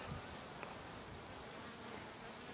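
Honey bees buzz at an apiary in spring, carrying pollen, in a faint, continuous drone, steady and without pauses.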